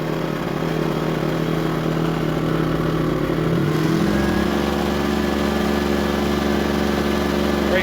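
Pulsar GX400BN inverter generator running in eco mode, giving a steady, fairly quiet engine hum with a low drone that settles into a lower, even tone partway through, with no talking over it.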